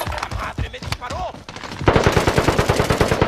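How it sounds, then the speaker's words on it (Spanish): Rapid machine-gun fire in a Call of Duty match bursts out loud and steady in the second half, a fast rhythmic rattle following a stretch of excited players talking. "¡Me están disparando!"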